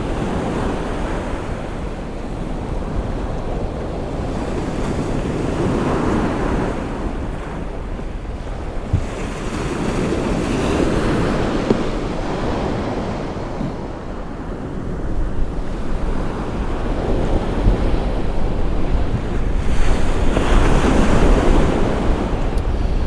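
Surf breaking on the chilly East Coast beach at Kilnsea, with steady wind buffeting the microphone; waves swell and wash in repeatedly at close range, growing louder toward the end, with no voices.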